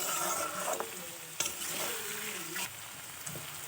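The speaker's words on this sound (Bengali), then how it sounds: "এইভাবেই হাই ফ্লেম দিয়ে আমি ভাজতে থাকবো।" Boiled potatoes frying in fish oil in a pan over a high flame, a steady loud sizzle with occasional stirring scrapes and clicks, no talk.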